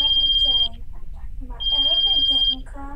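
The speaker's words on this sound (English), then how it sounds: "it's your cell phone!" A cell phone rings in the video game HetaOni with two long bright electronic tones, while voices talk over and between the rings.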